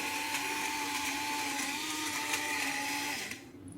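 An electric blender or juicer mixer running steadily while making beetroot juice, a loud continuous motor whine with a stable hum, cutting off near the end and leaving quiet.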